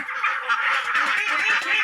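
Continuous loud honking and quacking from a dense flock of about 330 ducks on a floating duck farm, many birds calling over one another without pause.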